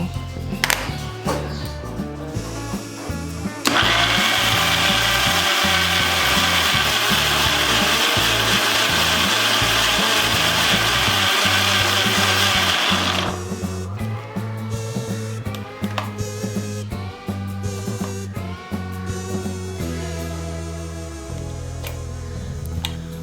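A mixer grinder blends ingredients with water, salt and a spoonful of ghee into a paste, a loud steady whir running for about ten seconds, with clattering and rattling before and after.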